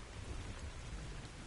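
Steady rain falls with a low thunder rumble in a hunting video game, theHunter: Call of the Wild, a constant dense hiss with a deep rolling undertone and no talk.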